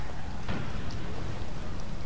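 Steady rain in the video game Dead Island, a dense, even hiss of falling drops filling the scene with a faint thud near the start and no voices.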